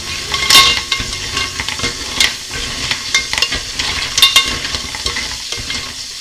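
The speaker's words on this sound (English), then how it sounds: "We're gonna let them fry for a couple of minutes." Prawns and clams fry in olive oil in a pot, giving a steady low sizzle broken by scraping, stirring clatter and occasional sharp metallic knocks of utensils against the pot.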